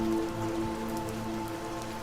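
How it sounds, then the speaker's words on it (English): Heavy rain from a sudden storm over an island, pouring down hard in a steady, dense hiss of drops striking surfaces, loud and continuous with no voices. "it'll rain for really hard for just a minute. Storm."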